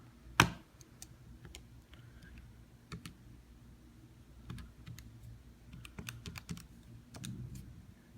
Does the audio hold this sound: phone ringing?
no